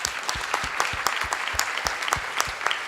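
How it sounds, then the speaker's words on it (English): A summit audience at a ceremony claps, moderately loud with distinct individual hand claps standing out over the general patter, steady for a few seconds. "So let's have a round of applause"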